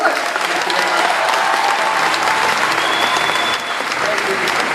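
A large crowd at a Star Wars Weekends fan event applauds Jeremy Bulloch, a thick, sustained wash of clapping held at full strength for the whole stretch.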